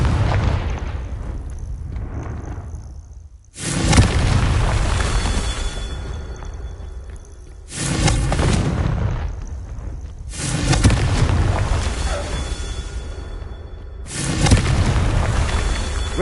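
Repeated Confringo blasting-curse explosions in a video game: four loud, deep blasts spaced a few seconds apart, each followed by a rumbling decay, with softer ambience between them.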